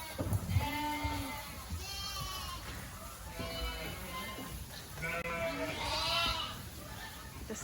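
Lambs and ewes bleat in a sheep barn with roughly 300 ewes and 275 lambs, overlapping cries rising and falling close by throughout, several animals calling at once over steady barn noise.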